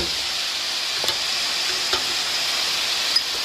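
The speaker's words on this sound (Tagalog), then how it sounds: "We put the onion. White onion." White onion sizzles steadily in a hot pan, with black pepper and ginger already in; a continuous close hiss runs throughout, broken by a few faint clicks.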